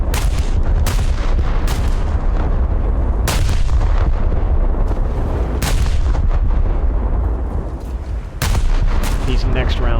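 Heavy naval guns of the battleship Scharnhorst firing in World of Warships, a string of loud, sharp booming salvos spaced a second or two apart over a constant rumbling background.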